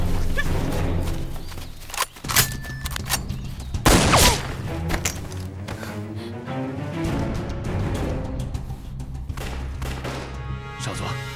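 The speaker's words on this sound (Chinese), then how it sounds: "这枪声离我们不远" Gunfire in a Chinese TV drama about overseas Chinese mechanics and spies, with several loud sharp shots and a burst near the middle over a dense score and scene noise, no speech heard.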